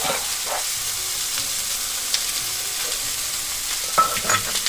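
Lightly fried vegetables with ginger paste sizzling gently over low heat for shukto, a soft steady fry with a few close spatula clinks and stirs, no talking.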